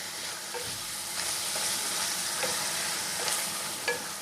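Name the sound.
onion garlic masala and cumin powder being sautéed in oil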